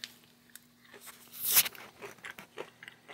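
Crisp crunching bites while chewing a chocolate peanut butter cup with potato chips close up, a few sharp cracks with one louder burst in the middle, no talking.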